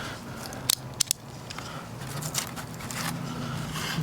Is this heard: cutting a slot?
yes